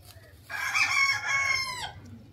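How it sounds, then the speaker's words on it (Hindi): A single rooster crows loudly and close, one drawn-out call rising then trailing off, with quiet farmyard background before and after. "हमारी मुर्गी ने अंडा दे दिया"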